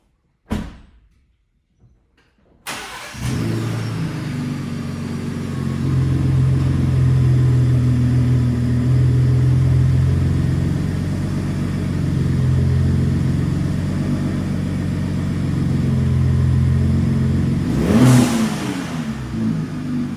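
A 2023 Gen 3 Ford Raptor fitted with a blow-off valve adapter and K&N air filter, heard from inside the truck: a door thud, then the engine starts and idles with a deep, steady rumble, rising in one sharp rev near the end.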